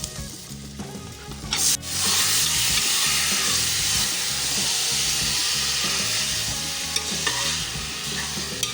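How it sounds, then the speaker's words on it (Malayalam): Beef tipped onto sautéed onions in a pan sets off a loud, sustained frying sizzle, with stirring scrapes and a few metallic clinks over the hiss. "ഉള്ളി ഒന്ന് വഴണ്ടിട്ടുണ്ടെങ്കിൽ നമുക്ക് ബീഫ് ഇട്ട് കൊടുക്കാം"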